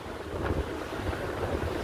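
Wind buffets the microphone over a steady wash of ocean surf at a rocky beach after rain, a continuous loud roar with no talking.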